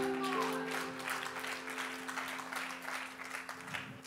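A church gathering breaks into applause, sustained clapping from the congregation heard at a moderate distance over a low, steady musical hum, with no voices on top.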